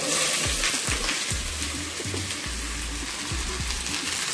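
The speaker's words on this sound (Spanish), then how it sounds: "Le vamos a echar las calabacitas para que se frían aquí" Zucchini slices hitting hot oil and frying alongside onion in a home kitchen pan, a steady soft sizzle with faint stirring scrapes, close and quiet with no talk.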